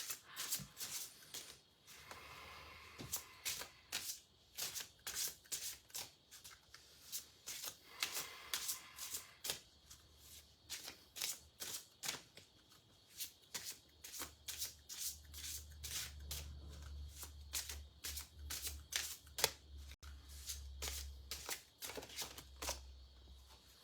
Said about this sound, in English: These cards are nice to shuffle.